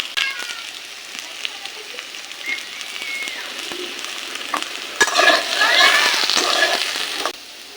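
Potatoes frying in a pan with turmeric give a continuous crackling sizzle that swells louder near the end, with some background voice underneath.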